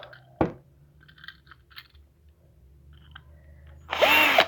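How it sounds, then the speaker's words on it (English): A power drill whirs in a short close burst at the end, drilling out a 1:64 diecast model car, after a few scattered clicks and light clatter in a quiet room. "drilling it out that tiny little bit more."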